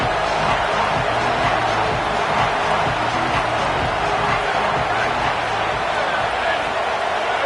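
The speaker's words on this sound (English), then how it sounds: "This crowd knows when to bring it." A college football stadium crowd roaring in a continuous loud wash during a Texas versus Nebraska game, with a commentator's voice talking over the noise.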